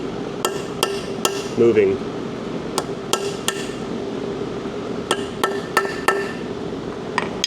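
Hammer blows on a bolt used as a punch while working on a 2015 Tahoe 5.3 engine, several sharp metallic strikes spaced irregularly and heard close, with a brief spoken word among them.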